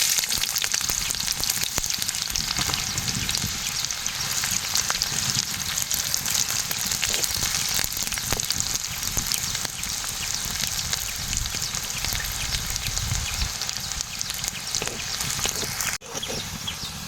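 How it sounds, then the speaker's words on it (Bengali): Onion sizzles steadily in hot oil, a dense continuous crackle that holds at an even level throughout. "পেঁয়াজটা ভাজা হয়ে গেছে"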